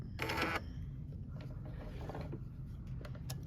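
A sewing machine stitches along a drawn line on a quilt paper-piecing unit, with a brief louder mechanical whir at the start, then faint clicking and whirring of the gears running quietly.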